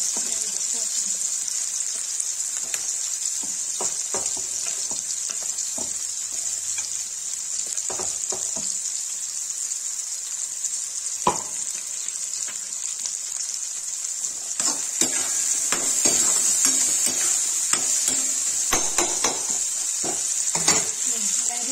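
Onion, ginger and garlic sizzle and fry in oil for Kashmiri rajma, a steady hiss throughout with occasional stirring clinks, while a voice speaks faintly at times.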